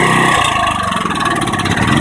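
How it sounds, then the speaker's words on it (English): Small lawn mower engine driving a 12 V generator, running with the choke off, makes a loud, steady, close-up mid-pitched engine drone with slight revving fluctuation and no talk. "I'm gonna go turn the choke off and see if it runs any better"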